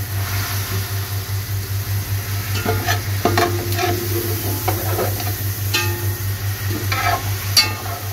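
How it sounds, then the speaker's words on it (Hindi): Soy sauce, two or three tablespoons, sizzles in a hot pan for Chinese rice and Manchurian while a spoon stirs, with steady frying hiss and scattered scraping clicks over a constant low hum. "मैं तकरीबन 2 या 3 टेबल स्पून मैंने सोया सॉस डाल दिए"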